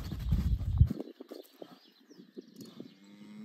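A chestnut roan horse walks on soft ground, with muffled, irregular hoof thuds. Heavier low rumbling comes first, then lighter scattered steps, close by and with no clear talk.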